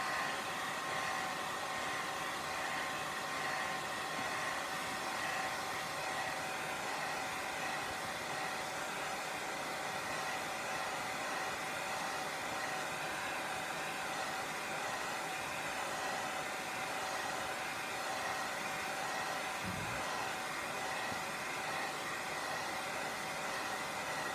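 A hair dryer runs steadily at close range while drying a watercolor and gouache painting, a constant loud whooshing roar with a faint whine that holds unbroken for over twenty seconds, with no one speaking.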